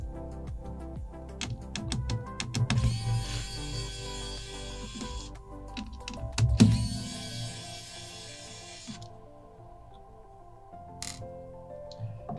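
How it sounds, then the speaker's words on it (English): Small screws being removed from the right hinge of an Acer Aspire 3 laptop, with a series of close clicks, taps and light tool scrapes plus a brief louder knock midway. "we're gonna remove the three screws at this hinge location"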